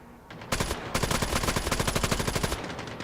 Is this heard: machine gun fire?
yes